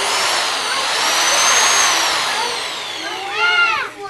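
A power drill whirs steadily at close range, its motor pitch wavering slightly, then slows down and briefly revs again before stopping.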